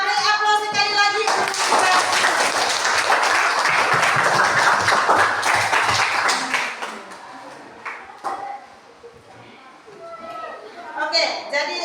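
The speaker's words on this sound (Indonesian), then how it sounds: "Kita beri aplaus sekali lagi." A classroom of students claps together for several seconds in a dense burst of applause, which fades as a teacher's voice resumes talking.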